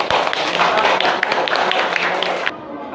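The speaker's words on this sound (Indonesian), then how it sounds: "Tepuk tangan yang meriah." Lively audience applause for students who have finished reciting a Quran surah in a classroom lesson, dense steady clapping for about two and a half seconds before cutting off abruptly.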